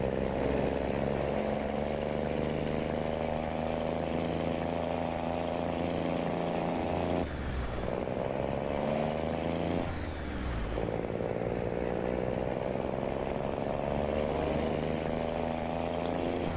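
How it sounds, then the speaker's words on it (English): A modded semi truck in Farming Simulator 19 cruises with a steady, droning engine rumble and Jake brake chatter, briefly dipping twice mid-clip and then resuming, with no talking. "let it cruise and see what this Jake break sounds like"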